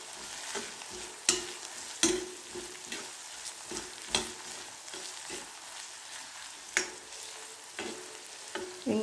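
Onions sautéing with turmeric and salt hiss quietly in a pan while a spatula scrapes and taps in an uneven rhythm, with sharp clicks scattered through a soft, close sizzle.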